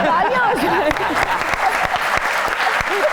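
Audience applause at a comedy mimicry show, dense steady clapping from a studio crowd filling the whole stretch, with a few faint voices and whoops mixed in.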